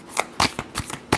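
A short burst of tarot card shuffling up close: five or six sharp papery flicks in quick succession, loud and alone.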